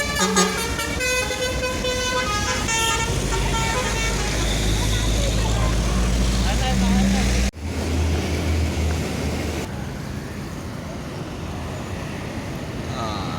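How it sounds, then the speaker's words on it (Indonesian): Several buses in a convoy pass close by on a road, sounding loud musical multi-tone horns over heavy engine and traffic rumble, then the horns stop and the engines continue more faintly. "Ada bus dari arah mana ini?"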